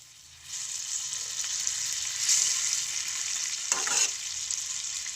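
Dried fish curry simmering and being stirred in a pan after a cup of water is added, with a steady close sizzle and a couple of brief louder scraping stirs near the end, no talking.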